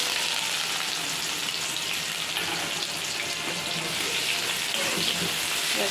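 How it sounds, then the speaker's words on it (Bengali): A large whole onion frying in oil in a pan gives a constant, bright hissing sizzle, close and steady without pause, no one speaking. "এবার পেঁয়াজটা ভাজা হয়ে গেছে"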